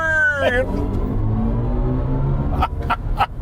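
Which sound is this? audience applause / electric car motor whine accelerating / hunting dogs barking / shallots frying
electric car motor whine accelerating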